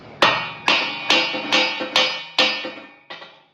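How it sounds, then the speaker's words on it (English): Seven sharp metallic strikes ring out at a steady pace, each brass hammer blow on a failed truck chain leaving a bright, decaying clang. "Get my brass hammer."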